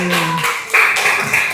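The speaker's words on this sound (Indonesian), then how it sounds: "Boleh tepuk tangan dulu." A short burst of applause from a grade 5 classroom for a student, quick close claps lasting barely a second under a teacher's voice.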